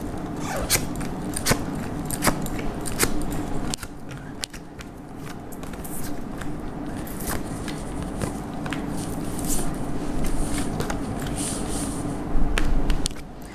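Tarot cards are laid out on a surface, with soft slaps, shuffles and small clicks at an irregular pace, close and fairly quiet.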